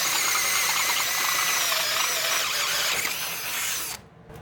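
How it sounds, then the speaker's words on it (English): A power drill bores a hole in a Harley-Davidson Sportster motorcycle part, a steady high whining grind running close and loud for about four seconds before cutting off abruptly. "Why not just drill a hole right here, put the switch right there?"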